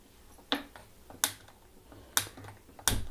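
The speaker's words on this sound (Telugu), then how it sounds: "ఇప్పుడు స్టవ్ వెలిగిస్తాం." A kitchen gas stove is lit with four sharp, separate ignition clicks spaced about a second apart, close and crisp against a quiet room.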